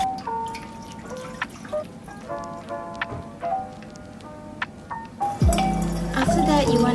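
Water drips and patters while eggs are rinsed in a dish, with scattered close droplets at first, then a steady gush of running tap water toward the end.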